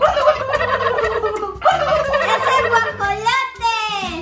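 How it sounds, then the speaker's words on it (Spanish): A turkey gobbles in repeated loud, rattling bursts, close and clear, played during a children's animal-sound guessing game, with a short pause between calls. "Efectivamente, el guajolote."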